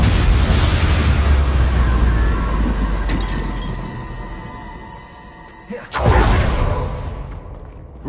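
Loud, continuous blast-like roar from the Confringo spell in a Harry Potter video game, fading slowly before a sharp new burst near the end and another swelling rumble.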